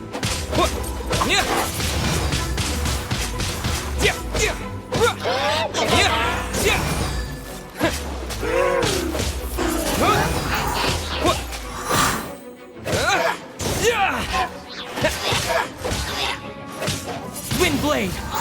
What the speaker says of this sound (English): Wind blade!